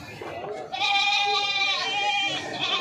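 A goat at a provincial market lets out a long, loud, wavering bleat close by, with faint crowd murmur underneath.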